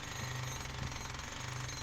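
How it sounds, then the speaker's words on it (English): A big jackhammer digging rock inside a small tunnel section, a loud continuous rapid hammering that stays steady and close throughout. "That's why I didn't do too much with this big jackhammer."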